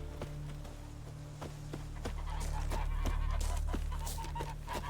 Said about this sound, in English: Hey, geese.